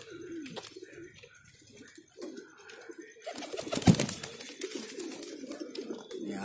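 Soft, low cooing of pigeons repeats in short phrases, close by, with a rustle of movement and faint background noise.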